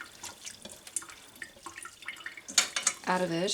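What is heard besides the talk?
water running while rinsing cottage cheese curds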